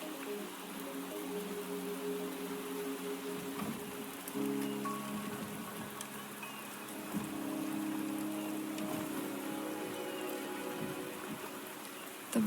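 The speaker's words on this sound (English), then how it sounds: "The rain is subsiding" Rain falling in the video game Wuthering Waves, a soft continuous patter of drops on surfaces with a low steady hiss, fairly quiet and alone with no voices.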